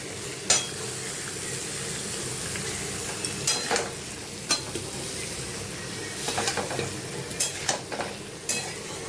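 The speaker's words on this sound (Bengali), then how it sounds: "এবার সবজিগুলো ভালো করে ভাজবো পেঁয়াজের সঙ্গে" Vegetables frying with onion in a pan, a continuous close sizzle punctuated by sharp scraping and clinking of a spoon against the pan at irregular intervals.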